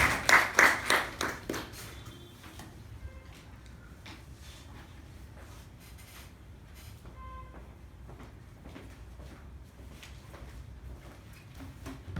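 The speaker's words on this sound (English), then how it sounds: "Let's bring him on with a nice round of applause" An audience at a club meeting breaks into a short round of applause that fades within about two seconds, leaving quiet room noise and scattered small sounds.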